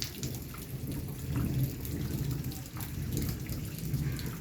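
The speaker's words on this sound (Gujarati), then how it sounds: "અત્યારે વરસાદ બહુ પડે છે" Steady heavy rain pours down in a dense, continuous hiss with low rumbling beneath, loud and close throughout.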